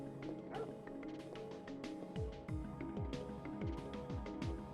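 Dogs in a park in the video game Parasite Eve, barking in a quick series of yips and barks over a low background hum. The barks are moderately near, with no talking.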